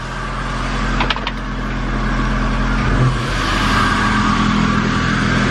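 A junkyard Honda B18C Type R engine swapped into an all-wheel-drive CRX runs loud and close, its steady engine drone swelling slightly as it revs, with a couple of brief clicks early on.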